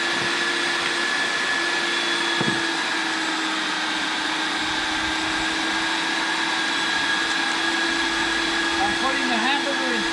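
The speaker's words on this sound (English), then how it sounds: "Our grinder's not really big enough. We should have a bit bigger grinder" Electric meat grinder, on the small side, grinds moose meat into hamburger with a constant, loud motor hum and whine that runs unbroken throughout, with faint scattered knocks.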